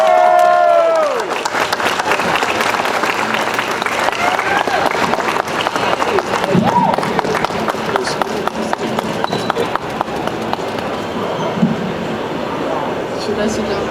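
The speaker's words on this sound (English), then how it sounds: "Let's get a round of applause." Loud, sustained audience applause fills a comic convention hall, with a voice briefly speaking at the start before the dense clapping rolls on.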